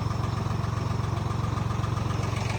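A tractor engine idles steadily nearby, a low rhythmic chugging throb that holds constant with no voices.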